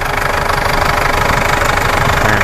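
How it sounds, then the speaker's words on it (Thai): A 1997 Mitsubishi Strada engine runs close by during a compression check, a loud, steady idle with a rapid knocking diesel-like clatter. "ไม่มีไอเครื่องยนต์ทำงาน ถือว่าโอเคนะครับ"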